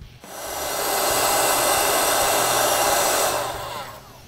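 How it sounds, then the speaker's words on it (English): A heat gun blows steadily to shrink heat-shrink tubing over a soldered wire splice, a loud continuous whooshing hum that ramps up, holds for a few seconds, then eases off. "we're going to put some heat shrink over the joint"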